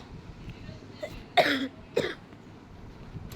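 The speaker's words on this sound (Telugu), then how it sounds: "cough bro" A single sharp cough, followed about half a second later by a shorter second cough, heard during a Free Fire game stream over a low background hum.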